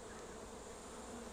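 Steady, quiet drone of honey bees working over brood comb in an opened hive, a constant close-up buzz with no voices.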